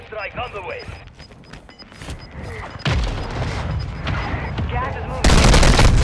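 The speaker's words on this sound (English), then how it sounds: "Mortar strike on the way." A mortar strike in Call of Duty: Modern Warfare II lands as heavy, rumbling blasts and crashes that grow louder, with a loud final impact burst, amid game noise and voices.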